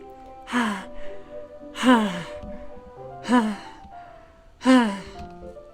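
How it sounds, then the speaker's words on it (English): Four sharp, breathy inhales through the teeth, each a short hiss that falls in pitch, evenly spaced over a quiet background in Doki Doki Literature Club. "A sharp inhale, like someone is sucking the air through their teeth."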